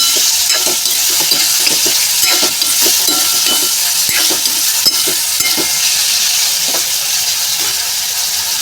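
A pan of tempered muskmelon peel sabzi sizzles steadily while water is added and a spoon stirs through it, with scraping strokes over a constant frying hiss and no voices.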